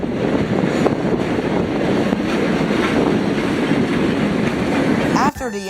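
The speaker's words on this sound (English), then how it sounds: "Union Pacific's LUL 43 came on backing through with a caboose leading." Union Pacific locomotive LUL 43 backs slowly through a yard in South Salt Lake with a caboose leading, a steady, loud rumble of rolling wheels and rail noise that cuts off abruptly near the end.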